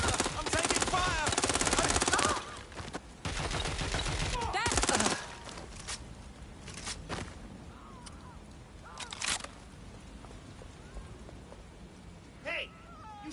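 Gunfire in Watch Dogs: Legion, dense bursts of rapid automatic shots for the first five seconds, then scattered single shots and quieter game sounds.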